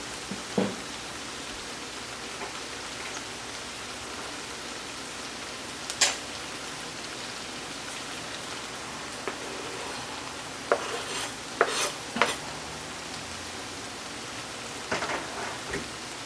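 Garlic sizzles with mushrooms in a hot pan, a steady, quiet crackle with scattered scrapes and taps of a utensil stirring.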